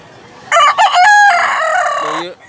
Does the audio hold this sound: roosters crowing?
yes